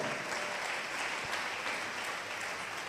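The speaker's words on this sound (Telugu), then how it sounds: "గట్టిగా చప్పట్లు కొట్టి గట్టిగా దేవుని మహిమ పొందుదాం." Loud, steady clapping from a church congregation, a dense wash of many hands filling the whole stretch with no voices standing out.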